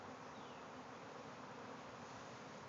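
A dense swarm of honeybees pours out of a backyard hive above a shed, their steady, loud buzzing filling the air without a break.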